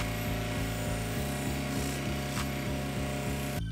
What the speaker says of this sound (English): figured I might as well see what the Scotch-Brite can do to shine it up